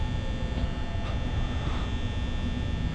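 A steady electric fan hum with a low buzzing drone, constant and unchanging throughout, fairly close with no other sounds, in the video game Five Nights at Freddy's 2.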